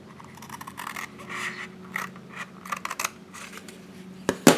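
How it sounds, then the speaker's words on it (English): Scissors snip through a scored section of paper up close, a series of short crisp cuts and rustles at irregular intervals, ending with a louder snap, with no one speaking. "And then we're going to cut this section out"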